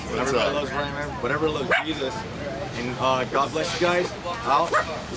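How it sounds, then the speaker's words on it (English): A dog yips and whimpers in short bursts close by, mixed in among people talking over it indoors. "Oh, that's the dog."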